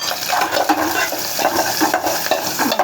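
Onions sizzle in a hot pan for Tamil-style dal rasam while a spoon stirs and scrapes through them, a busy, close, continuous frying sound.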